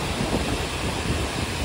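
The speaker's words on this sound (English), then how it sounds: "I've come back down to the waterfall" Taheke waterfall in a New Zealand scenic reserve: a steady broadband rush of falling water, mixed with wind buffeting the microphone, continuous and fairly close for the whole stretch with no voices.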